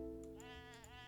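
Sheep bleat in a strategy game match, two or three short wavering calls one after another, fairly close and clear over a steady low game hum.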